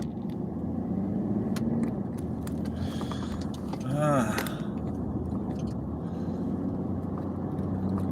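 A car pulls away from a green light on the Pacific Coast Highway, a steady close engine rumble and road noise that swells briefly mid-clip, with a person talking over it.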